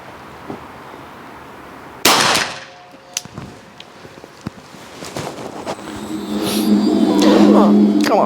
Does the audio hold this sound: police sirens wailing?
no